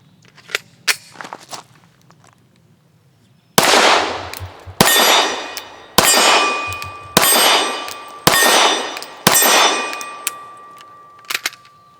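A Sarsilmaz ST9 pistol, a NATO-spec handgun shooting cheap steel-cased ammo, fires a string of sharp shots, each followed by a ringing clang from steel targets, loud and evenly spaced, with lighter clicks before and after.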